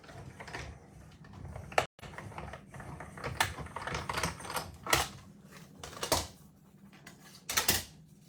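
Cutting machine feeding paper through while cutting butterfly shapes, a clattering mechanical whir with ratcheting clicks and sharp louder thumps at irregular moments, close and steady throughout.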